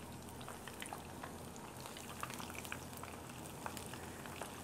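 Battered chicken fries in a pan with a faint, steady sizzle, dotted with small crackles and pops all the way through.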